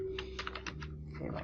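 Quick typing on a computer keyboard, several soft clicking keystrokes over a steady low hum, with a voice talking underneath.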